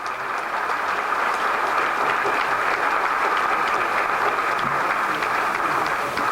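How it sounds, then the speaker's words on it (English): Steady, sustained crowd applause at a Seattle WTO public hearing, a continuous wash of many hands clapping at even loudness throughout with no talk. "So let's give them a round of applause"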